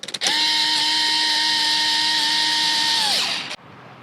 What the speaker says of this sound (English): You have these like electric screw guns, they make things so much faster